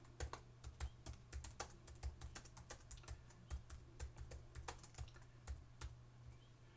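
Quick, uneven keystrokes on a computer keyboard as a document title is typed, close and fairly quiet, with no voices over the clicking.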